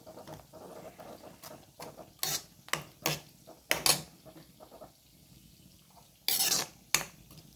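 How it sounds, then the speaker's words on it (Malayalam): A spoon stirs tomato buttermilk curry (moru kootan) in a metal pot, giving scattered sharp clinks and scrapes against the pot with quiet gaps between. "നന്നായിട്ടൊന്ന് മിക്സ് ചെയ്ത് കൊടുക്കുക"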